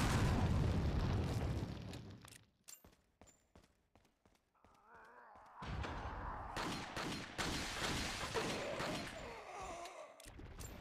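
Booming rocket launcher blasts in the video game Resident Evil 4: a heavy roaring burst, a stretch of sharp cracks and thuds, then another long loud roar of explosions with debris crackle.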